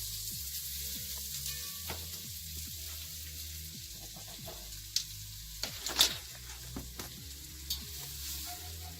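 Flour sizzling and frying in hot oil in a pot for clam chowder, a steady close crackle with scattered stirring clicks and scrapes, no voices.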